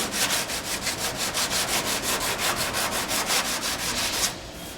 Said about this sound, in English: you want to just sand this edge down enough that you have a nice, even, exposed, bare metal surface